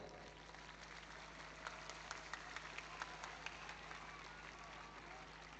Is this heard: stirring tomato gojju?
no